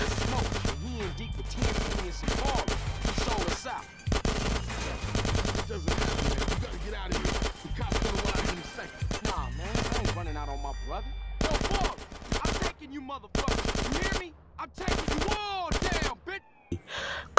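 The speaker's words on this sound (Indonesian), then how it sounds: "CJ pun harus beradu tembakan dengan geng The Balas" Bursts of rapid gunfire in GTA San Andreas, rattling automatic volleys and single shots, loud and close, over a busy backdrop of other game sounds.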